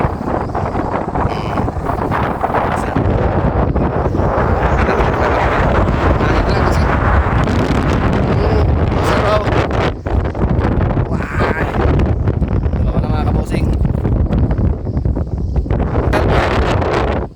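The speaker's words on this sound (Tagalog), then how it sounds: "malakas ang hangin" Strong wind buffets the microphone in a steady, loud roar throughout, with rustling and faint voices mixed underneath.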